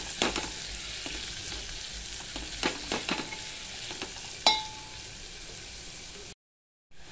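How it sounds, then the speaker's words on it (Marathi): Small chopped onion sautéing in a pan for mixed dal khichdi, a low steady sizzle broken by several sharp scrapes and clinks of a stirring spoon, then a brief cut to silence near the end. "छान आपल्याला कांदा लालसर परतून घ्यायचा आहे।"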